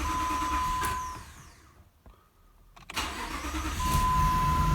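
A car with a faulty crankshaft position sensor cranks and starts after repeated attempts: an idling engine hum drops away into near silence, a brief electrical tone and cranking follow, and then the engine catches and runs again, loud and close.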